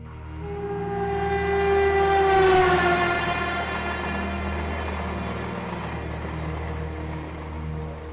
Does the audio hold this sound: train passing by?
yes